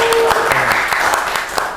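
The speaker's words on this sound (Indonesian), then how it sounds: "tepuk tangan dong, pencapaian buat Cerita Lari ya" A crowd breaks into brief applause at a talk about a running community, a short burst of scattered clapping mixed with background chatter.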